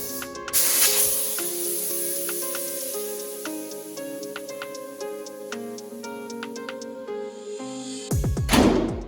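A new crate engine in a 1972 Chevy Suburban idles on its first start with a steady, loud mechanical run and rapid ticking, bookended by bursts of hiss or noise at the start and end.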